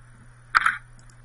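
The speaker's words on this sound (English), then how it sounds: "The shutter is going to open, then it's going to close, and the mirror is going to go back down." An SLR camera fires once at 1/200th of a second, a single quick mechanical clack as the mirror flips up and the shutter opens and closes, close and clear against a faint steady hum.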